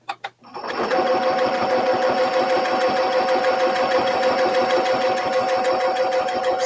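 A sewing machine stitches quilted churn dash practice panels, running loud and steady up close after a couple of brief starting thumps, with its fast even hum continuing unbroken to the end.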